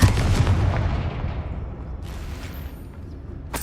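In Hogwarts Legacy, a Confringo fire spell bursts with a deep booming blast that rolls off into a long rumbling decay, followed by a softer crackle and a final sharp hit at the end.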